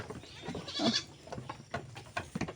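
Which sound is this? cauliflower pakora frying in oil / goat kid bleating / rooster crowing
goat kid bleating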